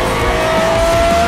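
A car driving on a track in a Roblox racing game, a steady, loud engine drone with a sustained tonal whine, continuous and close with no pauses over a short stretch.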